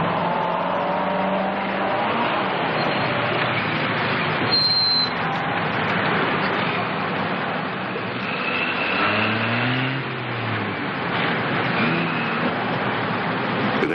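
A car drives steadily with a broad, continuous engine and road roar, fairly loud and close, while it turns a corner in a tailing scene, with no voices over the noise.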